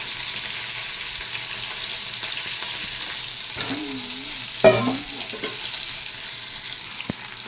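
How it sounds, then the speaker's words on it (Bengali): Okra frying in a pan for a Bengali mustard dish, a steady close sizzle with a spatula stirring and scraping partway through, ending in a sharp knock. "ভেন্ডিটা পরিমাণ মতন ভাজা হয়ে গেছে"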